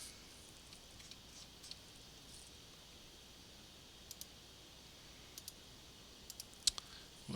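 Computer mouse clicking while navigating an app emulator on a desktop or laptop: a handful of faint, sharp clicks scattered over a quiet background, some in quick pairs, with a slightly louder click near the end.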